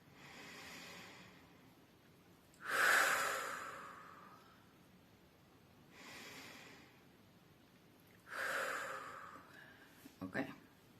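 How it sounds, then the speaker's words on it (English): Slow, deliberate breaths during a guided breathwork exercise, two loud close inhales or exhales through the nose with quieter breaths between, audible and unhurried, with no talking. "Okay, 2 more breaths."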